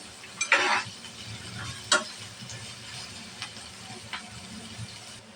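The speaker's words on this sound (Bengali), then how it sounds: "পেঁয়াজটা আমি ভালোভাবে ভেজে নেব" Chopped onion fries in a little oil in a pan, a low soft sizzle with a few sharp spatula scrapes and taps near the start, then quieter stirring.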